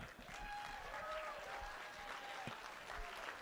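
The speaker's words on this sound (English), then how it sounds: "Now let's keep that round of applause going for our best man, Mr. Kyle Ott." Wedding guests clap after a toast, a steady burst of applause from a room full of people with some voices mixed in, fairly soft and continuous.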